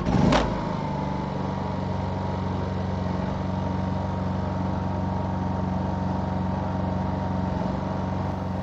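A Honda EU220i generator runs at a steady, even drone from start to finish, close and constant, with a brief bump at the very start.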